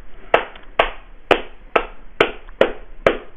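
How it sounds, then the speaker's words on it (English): Seven sharp, evenly spaced claps in a slow, steady rhythm, close and distinct with quiet gaps between them, as a small group claps in unison during a live stream. "Big clap for M60"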